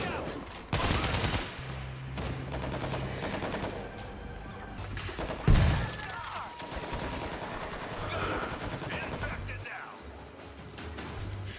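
Machine-gun fire in the zombie shooter World War Z, with rapid bursts and a heavy crash mid-clip over a dense backdrop of game noise.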